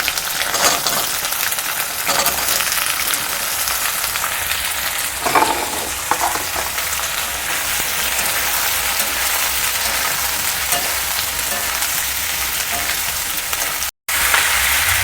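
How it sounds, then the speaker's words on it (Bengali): Chopped onions for soya chilli fry in a pan with a loud, continuous sizzle and crackle that stays even from start to finish, with a few brief stirring clatters. "পেঁয়াজটা অল্প পরিমাণে জাস্ট একটু ভেজেছি।"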